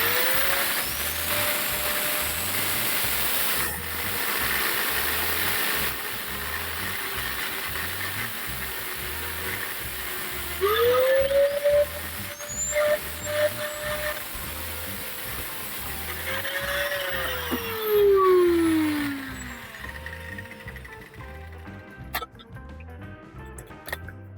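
A power cutting tool works on the bare metal body of a 1961 Renault Dauphine. It whines steadily with a rhythmic ticking underneath, then rises and falls in pitch as it bites into the sheet, loud and close.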